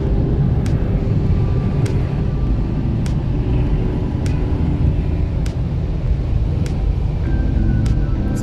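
At a Dubai car wash, an air dryer sweeps over a car with a constant heavy rushing roar, with faint regular ticks sounding over the blast throughout.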